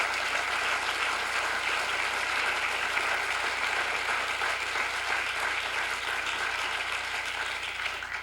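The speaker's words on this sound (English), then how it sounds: "You're clapping" Sustained audience clapping fills a lecture hall at a talk on DNA and criminal justice, dense and steady at an even level for the whole stretch, with no voices over it.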